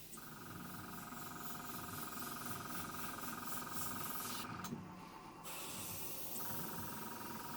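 A cheap Chinese Spirit Air 180 airbrush, a 0.2 mm Iwata knock-off, sprays in a steady close hiss running the whole time, with a brief dip near the middle before the airflow resumes.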